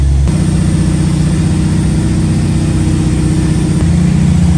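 A semi truck engine drones loud and close while the truck pushes cars down a snowy mountain road. The low rumble holds steady with a brief shift in tone near the end, and no one speaks.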